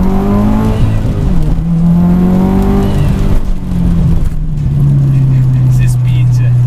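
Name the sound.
Subaru WRX STi turbo engine accelerating to rev limiter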